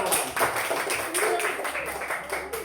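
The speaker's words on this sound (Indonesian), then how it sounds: "berikan tepuk tangan" A small group claps for a student group coming forward in a classroom-style setting. The claps are scattered and uneven, with voices talking over them.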